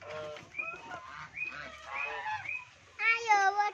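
Geese honk close by in a series of loud, nasal, trumpeting calls, several overlapping, with a stronger burst of honking near the end.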